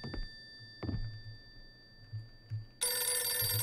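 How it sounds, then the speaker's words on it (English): A telephone bell rings in short bursts, then a loud electronic ring cuts in near the end, with a few soft thuds and low hum beneath. "Oh, the phone's ringing."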